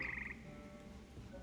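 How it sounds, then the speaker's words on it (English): Frogs croak in Hogwarts Legacy, a soft, low, repeated croaking under a constant ambient bed, with a brief higher tone early on. "Frogs."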